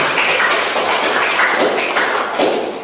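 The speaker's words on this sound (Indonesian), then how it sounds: "Benar sekali, tepuk tangan untuk Andre." A classroom of students claps for a classmate named Andre after a correct answer, a dense, loud burst of applause that runs steadily and fades slightly at the end.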